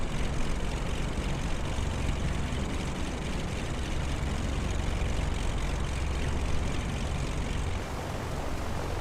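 A Pilatus PC-12 single-turboprop aircraft on the runway at San Andres, producing a steady, loud, continuous engine and propeller drone with broadband rumble throughout, no talking.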